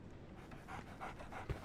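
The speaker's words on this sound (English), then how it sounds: "So, Barnes has a dog now." A dog in the Sherlock Holmes: The Awakened video game pants in quick, soft, rhythmic breaths, close by and fairly quiet, ending with a brief low thump.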